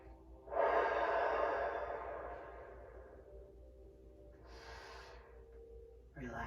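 Deep breathing during a stretching exercise, heard as a long, close, loud exhalation followed by quieter breaths over a low steady background hum.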